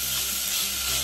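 Fenugreek leaves being stirred into a sizzling dal khichdi mixture in a pan, a steady close frying hiss with faint utensil scraping throughout, no talking.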